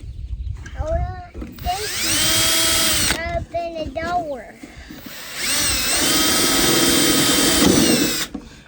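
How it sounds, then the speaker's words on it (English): A handheld power drill whirs in two long, loud bursts of several seconds each, close by, with short broken pulses between them and a person briefly talking around the second burst, outdoors while building a water catchment from reclaimed materials. "what I did is I got my drill and I stuck the broke piece back up in there"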